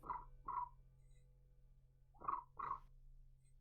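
A person's voice imitates cricket noises in two pairs of short, close, quiet chirps separated by a pause, over a low steady hum.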